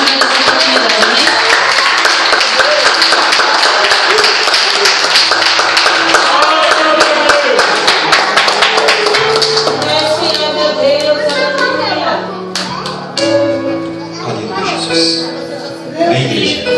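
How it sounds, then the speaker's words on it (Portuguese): A church congregation claps hands in praise during a Portuguese-language service, rapid continuous clapping from many people at first, then thinning out as voices and music take over toward the end. "As palmas agradecem ao Senhor Jesus Cristo e Senhor dessa oportunidade, amém?"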